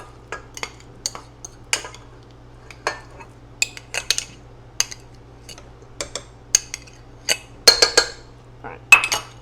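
Clinks and knocks of utensils against a mixing bowl as ingredients for banana pudding cookies are dumped in, a scattered series of sharp taps over a faint steady hum.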